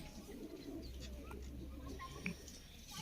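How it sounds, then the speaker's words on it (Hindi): Female Batair-breed pigeon giving soft, low cooing at close range over a faint background hum and distant bird chirps, quiet throughout. "ये बटेर नस्ल में से कबूतरी है"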